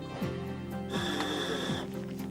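Scuba regulator breathing from a novice diver preparing to go into Lake Hańcza, with slow rasping inhalations and a hissing, bubbling exhale, close and loud, no talking.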